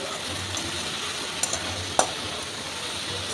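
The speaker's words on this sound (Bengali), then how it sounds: "চিনি দিয়েও আর একটু কষিয়ে নেব" Okra and potato curry with spices and a little sugar sautéing in a pan, a steady soft sizzle with a couple of brief scraping stirs, close and alone.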